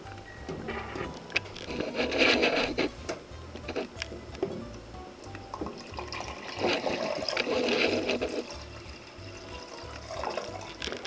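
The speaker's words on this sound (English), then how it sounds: "I'm going to pour in that 48 ounces of chicken broth" Chicken broth pours steadily into a pot in a couple of long, splashing gushes, close by, with faint clinks and kitchen noise between them.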